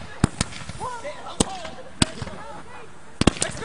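Fireworks pop in sharp close bangs during a firework fight, a few spaced blasts and then a quick double burst near the end, with shouting voices between them.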